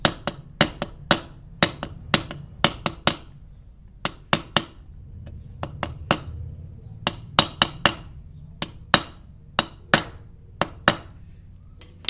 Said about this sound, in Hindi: यहाँ से थोड़ा सा लकड़ी का गुटका रख के इसके ऊपर थोड़ा ठोकेंगे तो ये आसानी से अंदर चला जाएगा